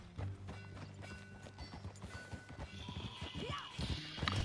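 Horse hooves clip-clop steadily at a riding pace in Red Dead Redemption 2, with game ambience and occasional voices mixed in.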